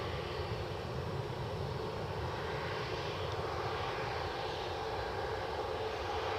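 A WestJet airliner's jet engines hum at Edinburgh Airport, a steady mid-distance drone with a continuous whine, moderately quiet and uninterrupted by speech.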